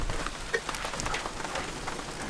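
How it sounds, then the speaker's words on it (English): Rain falls at a family campsite, a steady hiss of drops pattering on surfaces with occasional louder single drips close by, no talking. "Oh, and it's also raining."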